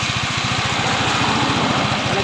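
A Yamaha Mio M3 scooter engine runs steadily nearby with a rhythmic low thrum, rising slightly as the throttle is opened, loud and continuous with no talking.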